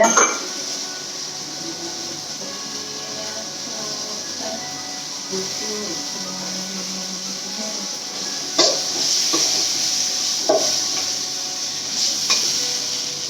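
Tomatoes sautéing in a pan for chicken gravy give a steady low sizzle with soft stirring scrapes, a few sharper utensil knocks near the end, close and moderately quiet.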